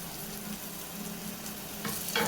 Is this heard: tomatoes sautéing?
yes